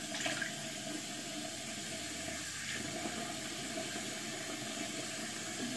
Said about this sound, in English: my water is taking a minute to get warm